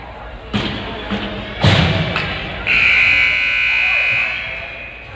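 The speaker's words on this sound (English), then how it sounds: "Buzzer sounds and we'll get going third period here." An ice hockey arena buzzer blares a loud, sustained tone for about two seconds between periods of a 14U AA youth game, preceded by a few sharp thumps and echoing arena noise.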